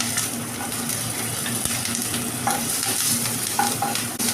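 Slit green chillies and panch phoron frying in oil in a wok, a continuous close sizzle with light stirring scrapes and occasional small pops; no speech.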